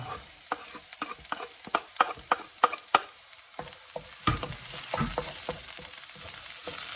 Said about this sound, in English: So we're going to put the garlic in.